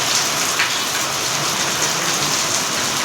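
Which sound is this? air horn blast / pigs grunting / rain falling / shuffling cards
rain falling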